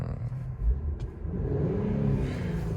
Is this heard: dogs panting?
no